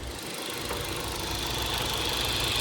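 A Ford car engine idling nearby, an even mechanical hum with a fine ticking pulse that stays steady and slowly grows a little louder, with no talk.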